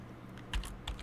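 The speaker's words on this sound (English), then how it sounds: "So here we will type" Two short bursts of keystrokes on a computer keyboard during a FileMaker database build, crisp clicks close to the microphone separated by a brief pause in a quiet room.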